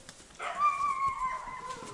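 A puppy whimpering, a thin, high, wavering whine drawn out over about a second and then trailing off, close and fairly clear over quiet background.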